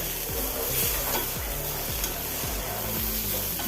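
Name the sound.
onions frying in pan for dried shark fry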